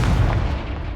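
A Confringo blasting spell in the video game Hogwarts Legacy hits as a loud, sustained, booming blast with heavy low rumble that fades slowly over about a second.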